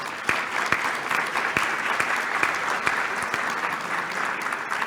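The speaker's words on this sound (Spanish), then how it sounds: "Nos recibimos con un fuerte aplauso, por favor." Sustained applause from an audience, dense and even clapping throughout with a few sharper claps standing out, no talking.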